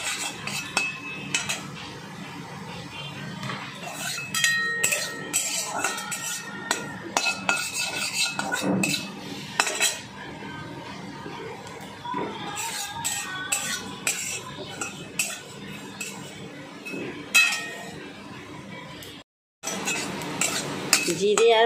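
Cumin and five-spice seeds are stirred in a dry wok, giving busy metallic scraping and clinking of a utensil against the pan in uneven bursts, close and fairly loud, with one short pause and no talk.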